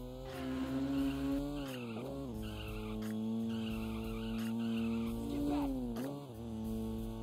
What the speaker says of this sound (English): For switching lanes and skidding around corners, check this out, G-Rider.